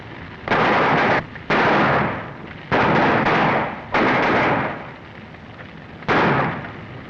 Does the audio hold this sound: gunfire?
yes